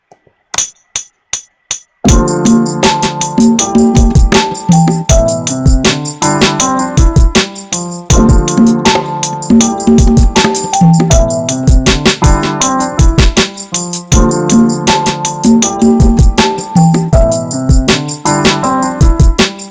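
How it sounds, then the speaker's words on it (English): A bongo loop plays back loudly in a music production session, a few sparse taps first, then a dense, continuous groove of sharp hand-drum hits with a busy, repeating rhythm and no voices. "let's record this bongo loop"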